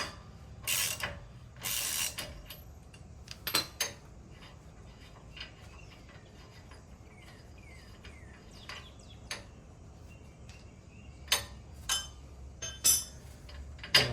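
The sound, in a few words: ratchet and socket removing a nut on a Jeep steering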